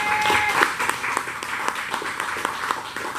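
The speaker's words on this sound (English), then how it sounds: "I want y'all to clap it up one more time." A live show audience claps in a dense, steady burst of applause, with a brief whistle near the start and a few voices mixed into the crowd noise.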